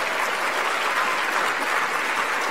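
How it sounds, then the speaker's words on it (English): Even, sustained audience applause at an education awards presentation for the singer Natasha, a steady wall of many hands clapping at constant loudness with no talk over it. "Please put your hands together once again for Natasha."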